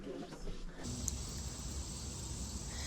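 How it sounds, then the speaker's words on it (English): Cicadas drone outdoors on a noisy August day at an estate sale, a loud steady high-pitched buzz running unbroken throughout, with faint low rumble beneath. "the cicadas are very active, but that's August for you"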